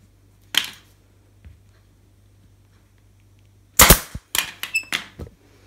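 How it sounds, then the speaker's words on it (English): Staple gun driving staples through fabric into a dining chair cushion: a single sharp snap, a faint tap, then a cluster of rapid loud snaps near the end. "And now you can just staple all the way around everywhere."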